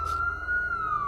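A police car siren sounds as a loud steady wail that slowly bends in pitch, close and alone for about a second.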